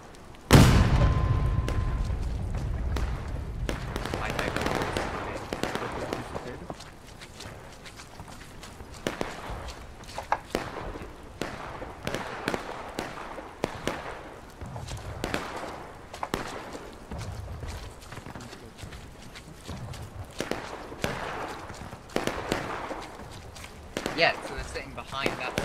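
A single loud artillery cannon shot booms at the very start in the War of Rights video game, followed by footsteps and quieter talk over a longer stretch.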